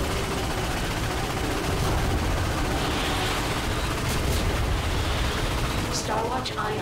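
Dense, continuous video game gunfire and explosions from Ratchet and Clank (2016) rumble without a break, with a few sharper bursts and sweeps near the end.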